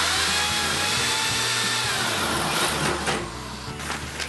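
A power drill bores pilot holes for neon sign housings, a loud, close whining motor with a steady pitched drone that eases off near the end.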